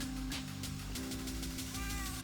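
Several Minecraft cats meow in overlapping repeated calls over a steady game background hum, close and fairly quiet.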